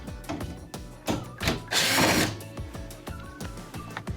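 Power screwdriver backing out Phillips screws from the trim of a Whirlpool oven, rapid ratcheting whirs in short bursts with one longer high whine midway, close and alone.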